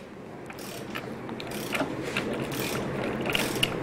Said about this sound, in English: 2 slotted screws that need to be removed